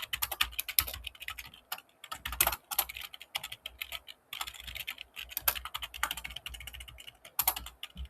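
Computer keyboard typed on at close range, irregular bursts of quick clicky keystrokes with short pauses between runs.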